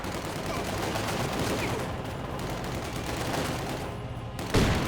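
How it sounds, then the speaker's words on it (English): Quick assault grenades go off amid a Company of Heroes 2 battle, a dense, continuous crackle of explosions and gunfire mixed together, ending with a louder burst near the end. "Quick assault grenades going off there"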